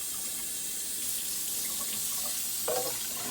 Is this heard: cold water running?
yes